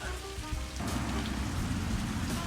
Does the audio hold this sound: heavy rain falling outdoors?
yes